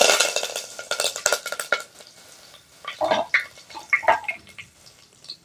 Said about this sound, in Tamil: கடுகு பொரிஞ்சிருச்சு கருவேப்பிலை சேர்த்துக்கலாம்